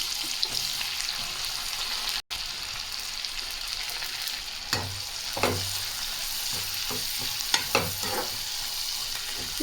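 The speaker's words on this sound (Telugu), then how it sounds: "ఒక బిర్యానీ ఆకు కూడా వేసుకొని ఆనియన్స్ వేసేసుకోవాలి." Onions and a bay leaf fry in hot oil, giving a steady close sizzle with occasional scraping stirs, and no one speaks.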